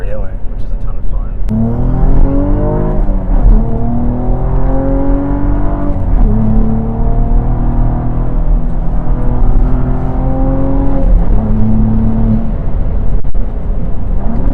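A Cadillac ATS-V accelerates hard with traction control off, the engine pulling loud and close through repeated gear changes, each rise in revs climbing and dropping in steady sequence, heard from inside the car.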